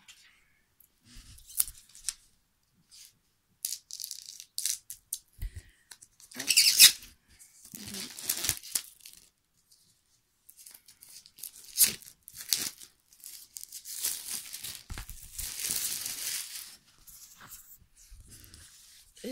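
A package is opened by hand, with irregular bursts of tearing, snipping and crinkling of its wrapping separated by pauses, close up, and someone speaking briefly between them.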